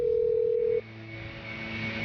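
A steady telephone dial tone plays loudly for under a second, then cuts off, leaving faint line hiss with a quiet low hum.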